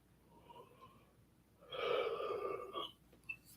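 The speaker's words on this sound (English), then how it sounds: "I don't know why I'm yawning" A person gives one long, breathy yawn, close and quiet, swelling for about a second before easing off, with faint breaths before and after in an otherwise still room.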